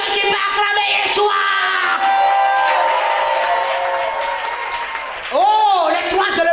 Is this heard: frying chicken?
no